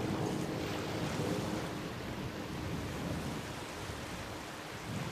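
Inboard racing boats with 25 horsepower engines run on a lake, their roar blurred into a broad, steady rush of engine and water noise heard from a distance.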